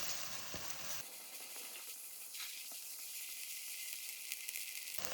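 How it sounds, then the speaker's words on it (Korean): Green onions stir-frying in oil for a Korean mushroom pasta, giving a soft continuous sizzle that stays even and fairly faint throughout, with no talking. "오일을 하나 두른 다음에 여기에다가 파향이 충분히 나도록 볶아줄게요."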